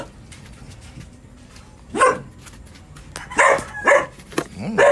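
A dog barks several times nearby, short sharp barks arriving in a loose cluster toward the end over quiet background noise.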